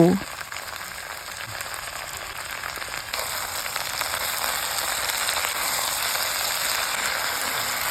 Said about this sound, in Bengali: পুঁই মেচড়ি এবং নুন হলুদ দিয়ে বেশ কিছুক্ষণ ভেজে নেব